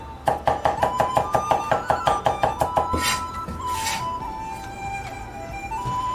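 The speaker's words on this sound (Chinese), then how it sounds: "大蒜来几颗，同样用到撇锅， 剁成蒜米。" A cleaver minces a few garlic cloves into fine bits on a chopping board, giving a fast, steady run of about twenty crisp knocks up close. The chopping then stops, leaving quiet kitchen background.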